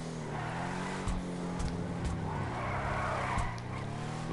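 Tires of a Shyster Deviant in GTA Online slide out under oversteer, a loud continuous engine drone with screeching skid noise layered on top throughout, with no talking.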